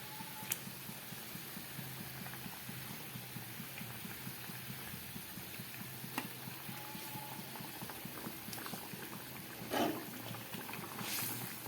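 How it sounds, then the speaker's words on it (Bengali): Fish curry gravy simmers at a rolling boil in a pot, a faint, steady low bubbling with a few soft pops. "ঝোলটা ফুটে উঠেছে"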